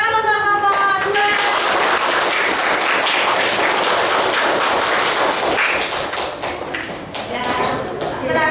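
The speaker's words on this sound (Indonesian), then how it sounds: "tepuk tangan untuk kelompok 2" Applause and clapping from a classroom of students for a group that just presented, a dense, steady burst filling most of the clip and tapering slightly near the end.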